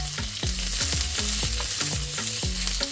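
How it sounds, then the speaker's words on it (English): Onions stir-frying in a hot oiled pan for Peruvian lomo saltado, a loud continuous sizzle broken by rhythmic metallic tossing and scraping strokes, close and with no voices. "now what we're gonna do is we're gonna add our onions"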